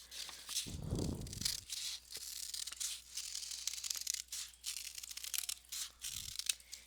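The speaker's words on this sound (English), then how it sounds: "So I'm going to keep cutting on that line." Scissors snip through folded paper while cutting out a simple butterfly shape, producing faint, crisp cutting sounds in quick bursts with short pauses, close by and quiet with no talking.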